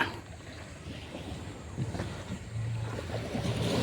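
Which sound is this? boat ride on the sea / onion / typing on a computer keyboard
boat ride on the sea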